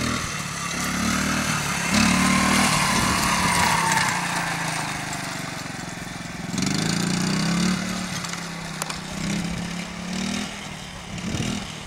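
A Honda Z50R dirt bike engine runs steadily nearby, its tone rising and falling as the throttle is worked, with no one speaking.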